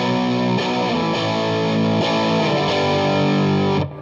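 High-gain Fender Stratocaster, limited edition, played through the Mark IV channel of a Mesa Mark V amp: a loud, thick distorted riff with rhythmic chord chugs that stops abruptly near the end, no talk over it.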